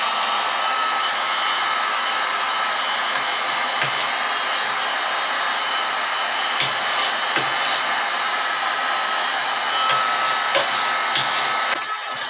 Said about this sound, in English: I'm using a heat gun just to warm the varnish up